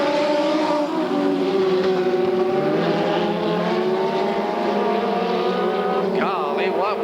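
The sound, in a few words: sprint car engine exhaust at a race track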